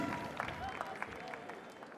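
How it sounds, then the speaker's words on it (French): A crowd at the International Catering Cup 2015 culinary competition claps for the Brazilian team: brisk, fairly close hand-clapping runs throughout, with voices talking over it. "Et on les applaudit, les amis brésiliens."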